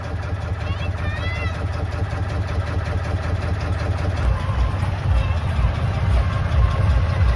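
A small rowing-style boat's engine runs on the sea near the Gateway of India, a steady low throbbing drone with continuous chugging pulses, loud and close, while voices talk over it at times.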